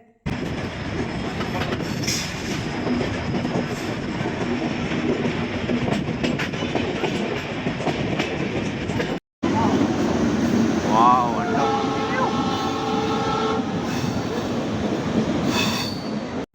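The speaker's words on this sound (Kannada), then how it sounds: "ಆ ಟ್ರೈನ್ ಸೌಂಡು ಎಲ್ಲ ಕೇಳ್ತಾ ಇದ್ರೆ ಎಷ್ಟು ಖುಷಿ ಅನಿಸುತ್ತೆ" A train rumbles steadily along the tracks in Goa, close and loud, with a rolling clatter and a drawn-out wheel squeal; a voice speaks briefly partway through.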